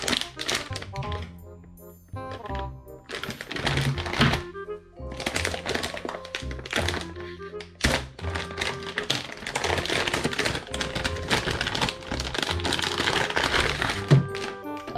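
A GeForce RTX 3060 Ti graphics card is unboxed, with close crinkling of packaging, sharp taps, thunks and cracks in irregular bursts, separated by brief quieter gaps.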